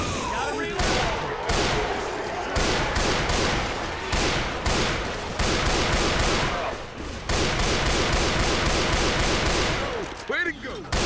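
Dense, continuous gunfire from the video game Left 4 Dead 2 during a survival round, rapid overlapping shots and bursts filling the whole stretch with only brief pauses, loud and close throughout.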